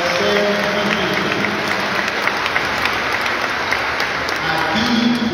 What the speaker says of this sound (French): Je vous demande d'applaudir et de remercier le Père Saint-Jean.